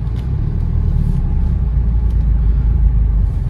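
Maruti Suzuki Fronx Turbo with a manual gearbox pulling away in second gear, a low steady engine rumble heard close from inside the car, constant and unrevved.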